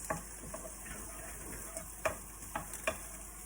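Soft, steady sizzling of shallots frying in a pan, broken by a few sharp ticks and pops of spatter, with no talking.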